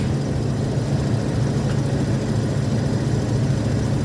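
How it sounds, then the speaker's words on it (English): An RV engine with an exhaust leak runs at steady road speed, giving a continuous low droning rumble with a raspy exhaust note that stays loud and even throughout, with no talking. "The vehicle, other than the noise from the exhaust leak."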